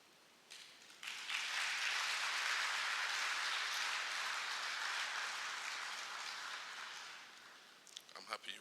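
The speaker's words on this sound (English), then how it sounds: "I'm happy you clapped." An audience claps during the president's address in Ghana. Applause swells quickly, holds as a thick, rain-like patter for several seconds, then thins and fades, and a voice returns at the end.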